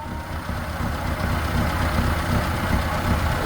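A Ford 650 tractor engine runs on a farm, a steady, loud, low diesel-like rumble that builds slightly in volume partway through and keeps a continuous chugging texture, with no voices.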